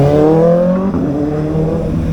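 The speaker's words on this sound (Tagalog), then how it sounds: "Ang bilis ng motor!" A motor vehicle roars past close by at speed, its engine pitch falling sharply as it passes, then trailing off into a steady rumble.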